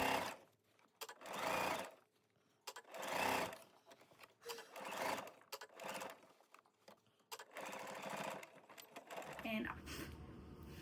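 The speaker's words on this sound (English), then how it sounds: "I'm lining it up with the seam lines, and I'm sewing all the way around." A domestic sewing machine stitches cuffs onto quilted jacket sleeves in bursts of rapid mechanical whirring, stopping and restarting several times, close and fairly loud with short pauses between runs.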